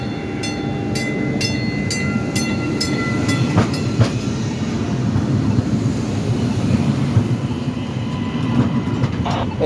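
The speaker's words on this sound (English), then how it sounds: "When that train goes by, I'm gonna show it to you." An MBTA train rolls past over tracks strewn with debris on Huntington Avenue, a loud, steady rumble with faint rhythmic clicks and squeals from the wheels.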